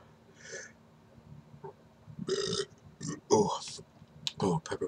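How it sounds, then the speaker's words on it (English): A man burps loudly after eating a scorpion with pepper, several throaty eructation bursts close to the mic following quieter breathy sounds. "Oh, pepper burp."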